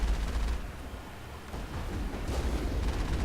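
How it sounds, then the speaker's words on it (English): Rockets exploding in a Mass Effect firefight, a dense run of heavy booms and rumbling blasts that dips briefly before swelling again, loud and close, with no talk. "someone's throwing rockets at me"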